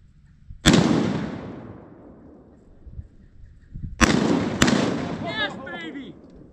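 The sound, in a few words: shotgun shot while duck hunting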